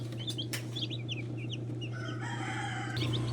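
Chickens and young chicks heard close by: a rooster crows once briefly, hens cluck and chicks peep in quick scattered chirps over a steady farmyard hum, no talking.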